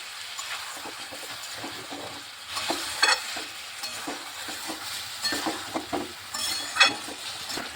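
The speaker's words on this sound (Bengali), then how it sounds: "দইটা দিয়ে এবার ভালোভাবে আলুটাকে কষিয়ে নিচ্ছি" Potatoes cooking in a pan with a generous amount of sour yogurt for dum aloo, giving a soft, continuous sizzle broken by irregular scraping stirs, fairly quiet and with no talking.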